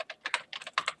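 Rapid clacking keystrokes on a computer keyboard, about ten close, crisp taps in an uneven rhythm, with no voices.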